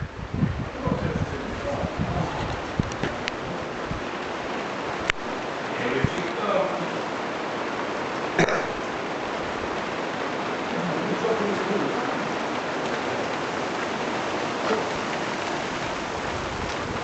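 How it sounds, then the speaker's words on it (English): Steady rain falls at night on a camping shelter during a thunderstorm, a continuous close hiss and patter with occasional sharper drops and light wind buffeting over about seventeen seconds, with a few soft voices early on. "Oh, listen to that rain."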